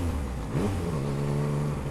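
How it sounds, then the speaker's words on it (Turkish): A motorcycle engine revs steadily at close range, picked up by a GoPro Max camera mounted on the rider's helmet chin, with a dense, continuous mid-low drone and a few small pitch shifts, no voices. "Direkt motorun sesini alıyor."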